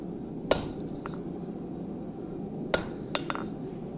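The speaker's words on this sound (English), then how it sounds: "It's just like a 1/16 inch thick fuller. If you've got a dull chisel, you could just use a dull chisel too, like a cold chisel." Hammer blows on a fuller or cold chisel while putting lines into metal at a treadle hammer setup: two sharp, bright metallic strikes a couple of seconds apart, followed by a few lighter taps, against a steady background hum.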